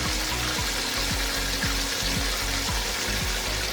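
Chicken pieces for Jamaican fricassee chicken fry in hot oil with a steady, dense sizzle, broken by regular low rhythmic thumps throughout; no one speaks.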